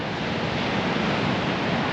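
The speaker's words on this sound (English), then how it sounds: "That's very windy at the moment." Strong wind and breaking waves at a small beach, a dense, steady roar of surf and gusting wind buffeting the microphone, with no voices.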